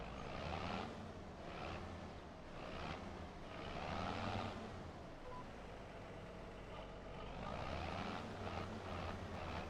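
Farming Simulator 25 tractor engine chisel plowing a field in Alma, Missouri, a steady loud droning rumble with rising and falling revs throughout, no talk.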